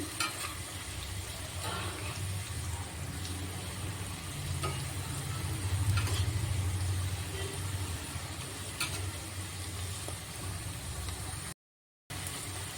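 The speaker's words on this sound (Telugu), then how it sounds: "రెండు వైపులా టర్న్ చేసుకుంటూ ఈ కాయలన్నింటినీ బాగా ఫ్రై చేసుకోవాలి" Bitter gourd pieces fry in a pan with a steady, close sizzle and crackle that swells midway, a few light stirring clicks, then a brief cut before the frying resumes.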